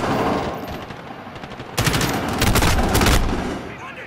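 An enemy turret in the Modern Warfare mission Operation Just Reward opens fire on the player, a loud, dense burst of automatic gunfire dominating the second half after quieter battle noise.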